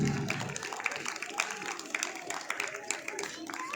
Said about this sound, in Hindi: और जोरदार तालियों के साथ आप सभी से गुजारिश है, एक जोरदार ताली होना चाहिए।